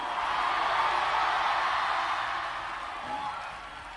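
A crowd at a sermon applauds and cheers in a loud, steady roar that eases off a little toward the end.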